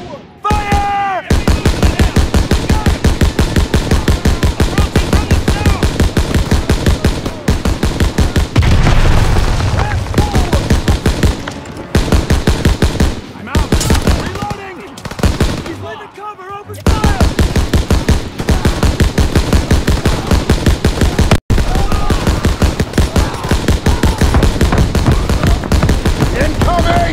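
Dense, continuous gunfire in Call of Duty WW2: rapid machine-gun bursts and heavy booms rattle on loudly for nearly half a minute, with brief lulls and shouted voices mixed into the battle.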